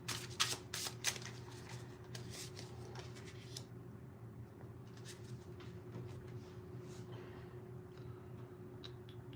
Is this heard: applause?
no